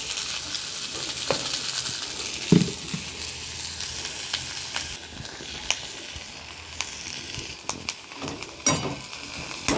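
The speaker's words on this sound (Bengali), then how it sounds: "এই যে পেঁয়াজটা একটু ভাজা হয়ে গেছে" Onions sizzle in hot oil for a mutton curry, a soft continuous frying hiss punctuated by sharp scrapes and taps of a spatula stirring the pan.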